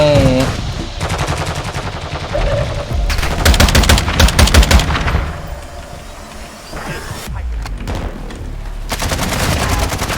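Rapid bursts of automatic gunfire with loud sharp shots, in dense volleys for several seconds, pausing, then resuming; game-like battle sounds from Call of Duty: Warzone 2.0.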